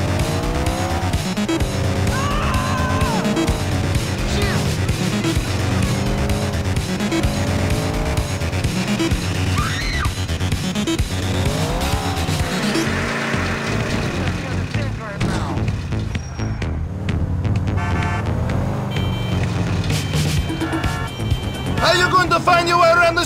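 Car engine and tire noise from driving in the video game GTA IV, a steady loud hum with squealing tires, running beneath continuous in-game character dialogue and background music.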